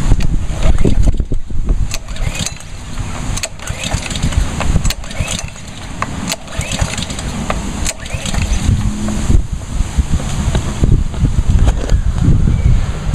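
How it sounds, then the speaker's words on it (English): Small pressure washer engine being cranked over several times with the ignition switch off to clear water from the pump, giving repeated rough, mechanical pulls outdoors with gusty wind noise across the microphone. "actually crank the engine about 6 times"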